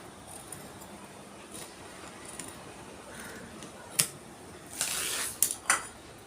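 Scissors cutting through old denim jeans fabric for a backpack, a few sharp snips and a longer crunching cut near the end, close over a faint steady background hiss.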